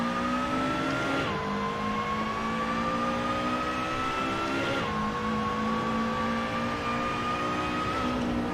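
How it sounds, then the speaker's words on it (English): Race car engine in a racing video game on the Deep Forest Raceway, held at steady high revs with two sharp throttle blips and gear shifts near 1.3 and 4.8 seconds, loud and continuous with no talking. "Now I forget that this car requires some blipping."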